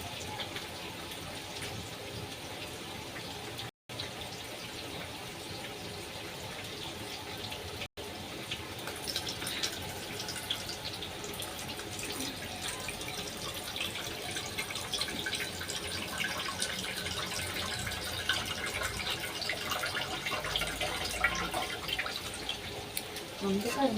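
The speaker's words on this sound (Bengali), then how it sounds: "চালটা ধুয়ে দিলাম, চাল আর ডাল একসাথে দিয়েছে।" Rice and lentils being rinsed together under running tap water, giving a continuous soft splashing and trickling that grows slightly busier over time, heard in a quiet room with no talking.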